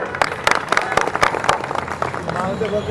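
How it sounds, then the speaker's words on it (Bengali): Scattered audience claps in a Bengali-language public gathering, irregular sharp hand-claps spread across a few seconds, fairly close, mixed with voices talking in the background. "আমি সবার কাছে অনুরোধ করব ওনাকে একটা হাততালি দিতে"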